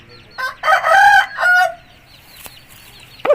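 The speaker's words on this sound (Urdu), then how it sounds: "انتہائی اچھے اصیل خوبصورت اور ٹاپ کلاس کے مرغے جو ان کے پاس ہیں" A top-class Aseel rooster, a three-time winner, gives one loud, close crow that rises and falls over about a second, followed by a few softer clucks and quiet pauses.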